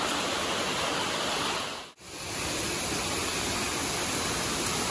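Waterfall in a dense forest on the Andharban trek during heavy monsoon rain, a steady broadband roar of falling water that fills the clip, cut by a brief near-silent dip around two seconds.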